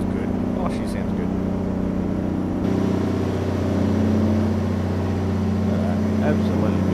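A Kenworth K100 truck engine drones steadily while driving, a deep, even rumble that holds constant throughout, with a faint voice over it.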